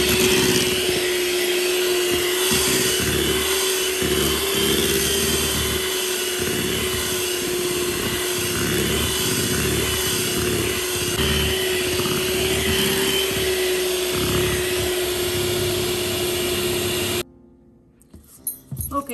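Electric hand mixer beating eggless chocolate cake batter in a home kitchen, a steady loud whirring motor drone with a constant pitch and slight churning fluctuations, running continuously for about seventeen seconds before switching off.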